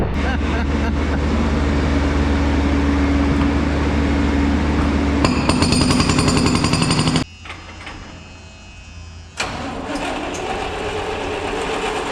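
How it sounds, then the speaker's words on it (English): Loud, continuous pounding of a hammer drill breaking up a concrete floor for about seven seconds, then a brief quieter pause before the rattling hammering resumes. "now it's time to throw a hammer on and break a little concrete"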